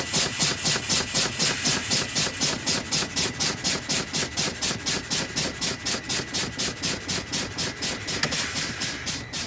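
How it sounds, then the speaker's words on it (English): Truck air brake system being pumped down from 45 to 20 psi during a CDL in-cab inspection, a steady rhythmic series of loud, evenly spaced air pulses over a low engine idle, continuing throughout. "I'm going to pump my truck down from 45 to 20 psi"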